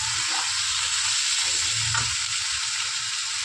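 Ridge gourd frying in a pan with a little sugar, giving a steady even sizzle of hot oil throughout, with faint scraping stirs near the start and around the middle.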